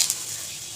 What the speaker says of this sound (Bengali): কড়াতে গোটা গরম মশলা থেতো করে ফোড়ন দিয়ে দিলাম